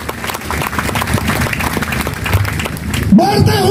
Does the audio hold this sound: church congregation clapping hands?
yes